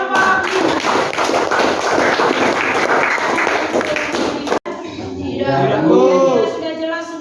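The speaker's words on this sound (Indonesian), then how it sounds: "Oke, tepuk tangan untuk kelompok" Classroom group applause, a dense steady burst of many hands clapping together for several seconds, then breaking off into voices and lighter background noise.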